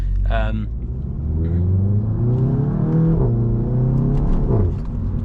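A VW Golf GTI accelerates on a night drive, heard from inside the cabin. The engine rumble rises in pitch through the revs, drops briefly as the gear changes, then climbs again, loud and close.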